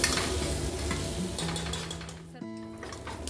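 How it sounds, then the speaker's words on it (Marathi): Onions sizzle in hot oil in a pan while being stirred, a close, steady frying hiss with scraping and clinks of a utensil against the pan and a short metallic ring near the end. "कांदा आपला चांगला लाल परतून झालेला आहे"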